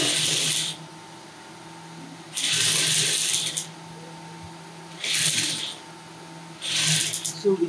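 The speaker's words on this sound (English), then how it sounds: "I'll stitch this front panel right now on this 1/2 inch." Domestic sewing machine stitching the front panel of a gathered skirt, running in four short bursts of rapid needle chatter separated by quiet pauses with a faint hum.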